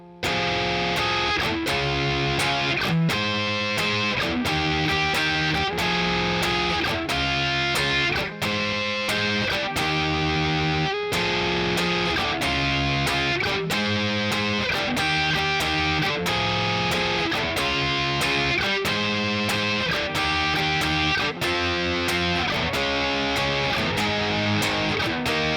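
A distorted electric guitar plays the intro riff of a song, loud and continuous, with steady rhythmic chord strikes through the whole stretch and no voice.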